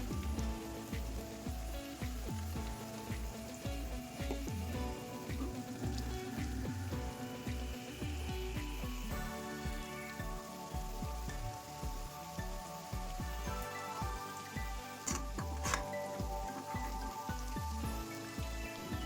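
Onions fry in oil in a wok until golden, giving a soft, steady crackling sizzle with scattered pops, fairly quiet and unbroken, under faint background music.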